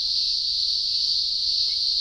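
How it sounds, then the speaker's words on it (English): A Masked Devil cicada calls in one steady, unbroken high-pitched buzz that holds at an even loudness throughout, with no other sound over it. "The most common cicada we have is the one called the Masked Devil"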